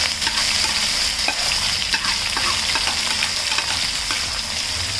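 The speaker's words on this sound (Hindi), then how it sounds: "मैं इसमें सारा चिकन बिस्मिल्लाहिर्रहमानिर्रहीम जो मैरिनेट किया हुआ था" Marinated chicken fries in hot oil with a loud, continuous sizzle, broken by scattered clinks and scrapes of stirring, heard up close with no talk.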